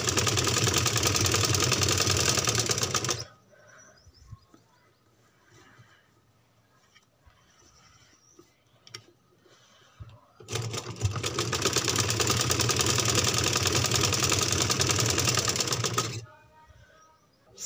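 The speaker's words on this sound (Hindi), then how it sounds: "अब हम ऊपर की तरफ एक सिलाई लगाएंगे, इसको आगे की तरफ करके नीचे वाले कपड़े को जो हमने फोल्ड किया" Sewing machine stitching a baby frock in two loud, steady bursts of motor whirring, about three seconds and then six seconds long, with a quiet pause of cloth handling in between.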